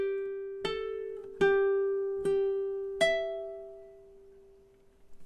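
A ukulele plays the closing measure of a Hawaiian song: four clear plucked notes and chords in steady time, the last held under a fermata and left to ring out and fade, close and alone.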